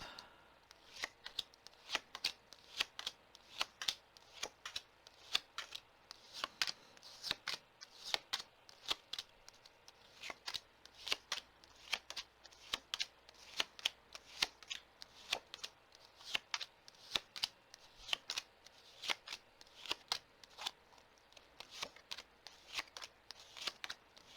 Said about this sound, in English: I think we're almost done shuffling.